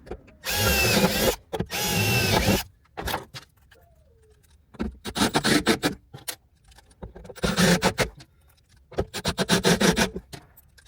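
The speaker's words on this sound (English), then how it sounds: "We're gonna get these holes drilled out, finish securing the sub" A power drill bores holes while a subwoofer is being secured in a 2006 Toyota 4Runner, in several loud, close bursts of a few seconds each with quieter gaps of handling noise between them.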